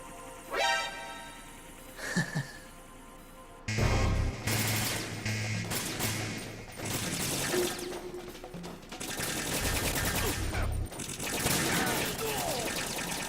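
Bursts of gunfire from the Metal Gear Solid 2 video game, with rapid automatic volleys and single shots filling most of the stretch, loud and close, with brief breaths and murmurs between.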